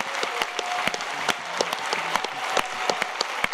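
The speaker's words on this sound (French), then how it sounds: "tout le monde, de se lever, de se regarder et de s'applaudir nous-mêmes" An audience at a conference stands and applauds itself, a steady wash of clapping with sharp individual claps popping out over about three and a half seconds, no talk.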